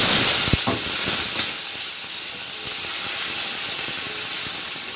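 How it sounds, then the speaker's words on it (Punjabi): Hot tadka poured into kadhi gives a loud, close, steaming hiss that fills the whole stretch, with brief pops near the start and a steady sizzle that slowly settles. "ਲੋ ਜੀ ਕੜੀ ਨੂੰ ਵੀ ਲੱਗ ਗਿਆ ਸਾਡੇ ਤੜਕਾ"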